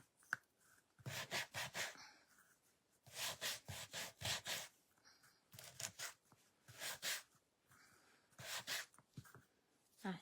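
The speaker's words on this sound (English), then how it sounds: "Sand these." Wooden quilt block pieces from a magnolia leaf wreath kit being sanded by hand, with repeated rhythmic scraping strokes in short bursts, close and moderately loud, with pauses between sets.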